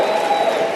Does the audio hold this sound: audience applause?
yes